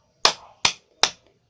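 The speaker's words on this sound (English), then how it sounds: "First you have to clap two times like this." Three sharp claps follow each other in an even rhythm, close and crisp with short decays in a quiet room, part of a cup game.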